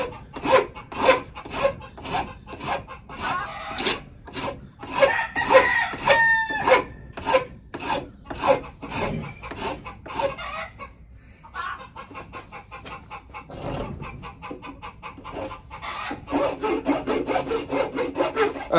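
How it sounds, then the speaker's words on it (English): Coarse rasp filing down the end of a wooden knife handle, a run of quick, loud scraping strokes in a steady rhythm that pause briefly and then resume with denser rubbing. "I'm gonna do just as well to rasp that end down"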